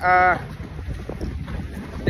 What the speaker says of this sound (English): it's windy, because the weather has been kind of crazy in Florida